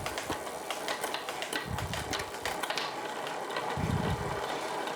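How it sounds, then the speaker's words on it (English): Road bike, a Scott Addict RC, clicking through the gears on a newly fitted cassette, with a quiet whirring freewheel, scattered close ratchet clicks and two brief lower grinding bursts as the chain shifts. "just run through the gears now with that new cassette then"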